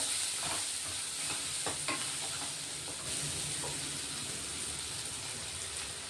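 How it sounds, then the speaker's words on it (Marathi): Bitter gourd (karela) sautéing in a pan, a soft, continuous sizzle with a few light stirring taps near the start, fairly quiet and without speech. "आधी कारले चांगले परतून घेऊ वाफेवर"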